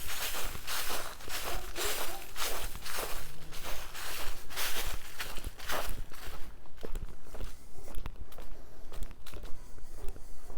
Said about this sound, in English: crunchy leaves.